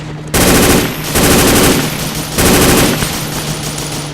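Bursts of automatic gunfire in a Vietnam-era jungle combat video game set at Rung Sat in 1966, three loud sustained volleys with brief dips between them, close and dense.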